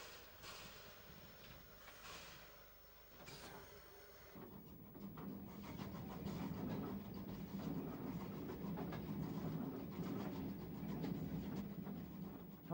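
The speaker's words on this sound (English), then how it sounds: "a steam haul goods train leaving Tenterden en route to Robertsbridge" A steam-hauled goods train pulls away from Tenterden in Kent, its rolling wagons and rail clatter swelling from moderate to a steady, louder rumble as it moves off, with no voices.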